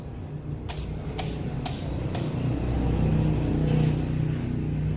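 A car engine runs with a steady low rumble, rising slightly as it revs toward the end, close and continuous, with a few sharp clicks early on.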